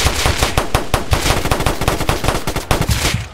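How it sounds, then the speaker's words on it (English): Rapid automatic gunfire from a street-life hood video game, a dense run of loud, closely spaced shots that rattles on steadily for several seconds with barely any pause. "They in there shooting."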